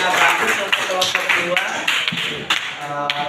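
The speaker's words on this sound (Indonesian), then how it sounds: "kasih tepuk tangan dulu dong untuk temannya" Students in a classroom applauding a group for good work, scattered claps with a teacher's voice talking over them.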